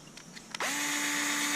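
A Milwaukee PVC shear starts up on ABS pipe: a few faint clicks, then a sudden motor whir that rises in pitch and settles into a steady, loud, close hum.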